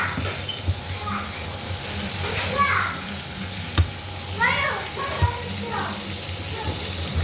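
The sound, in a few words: beef and koorkka stirred into sizzling masala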